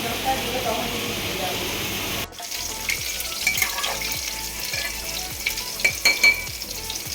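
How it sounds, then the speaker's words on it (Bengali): Steady crackling sizzle of fish frying in oil, with utensil clatter and a voice talking over it in the latter part. "এই যে মাছগুলো ভাজা হচ্ছে"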